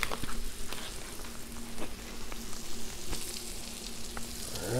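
A pork chop sizzles on a Blackstone griddle, a steady close crackle and hiss of frying with occasional small pops and a scrape near the end.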